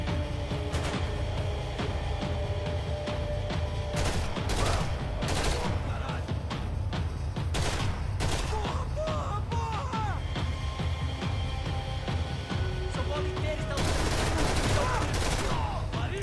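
Gunfire in the video game Max Payne 3, repeated shots and bursts ringing out over a dense, loud game soundscape, with some speech mixed in.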